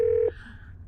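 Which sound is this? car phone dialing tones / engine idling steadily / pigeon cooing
car phone dialing tones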